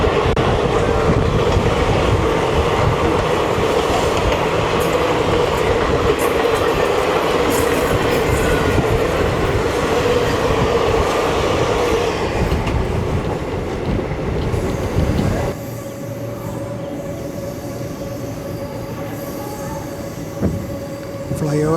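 ICF three-tier coach on the Hyderabad–Kollam special running at speed, with a loud, continuous rumble and rattle of wheels on track that drops to a quieter steady hum near the end.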